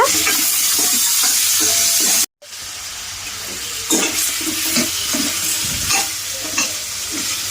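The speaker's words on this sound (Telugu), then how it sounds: "కొంచెం ఇలా గుమ్మడికాయ ఇంకా కాసేపు వేగాలి." Chopped pumpkin fries with browned onions in a pan, giving a steady loud sizzle with scraping stirring strokes, broken by a brief silent gap.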